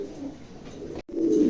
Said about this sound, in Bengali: চমৎকার দুই জোড়া কবুতর আছে